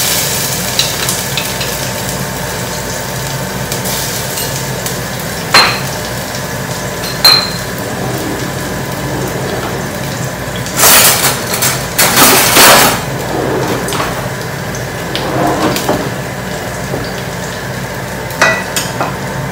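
Garlic dropped into a hot pan, a loud, close steady sizzle with occasional clanks of metal and a burst of louder frying crackle midway.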